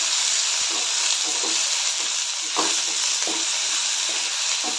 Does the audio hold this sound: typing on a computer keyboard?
no